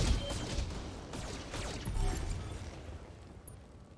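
Mech weapons firing and exploding in BattleTech, a dense loud rumbling barrage of blasts and impacts with a few sharp cracks, slowly fading out over several seconds.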